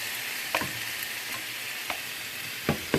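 Chicken pieces for arroz con pollo fry in a pan with a steady, close sizzle, broken by a few sharp clicks as a utensil flips and turns the meat.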